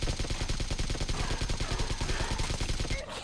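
Submachine gun fire in the video game PUBG Mobile, a rapid unbroken burst of loud, evenly spaced shots that cuts off near the end.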